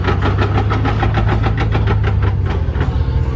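A truck with 30x16 tires runs with its engine idling while put into reverse, a steady loud low rumble with a rhythmic pulsing throb throughout and no talk.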